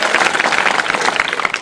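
Audience at a Hindi poetry recital by poet Deepak Pareek in Bhilwara clapping together, a loud, dense, continuous wash of applause from a close crowd.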